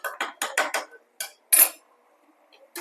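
A metal utensil clanks against a pan of chicken gravy being sautéed, giving a rapid run of five or six close clacks, then two more separate knocks and a faint one at the end, with no voices.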